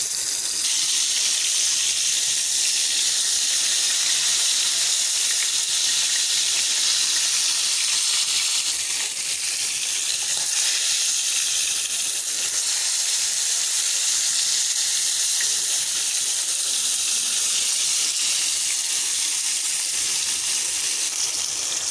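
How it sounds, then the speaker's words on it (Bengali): Tilapia fish head seasoned with salt and turmeric sizzles in hot oil in a pan, a loud, continuous hissing crackle that holds steady throughout with no talking. "দিয়ে দিচ্ছি তেলাপিয়া মাছের মাথা"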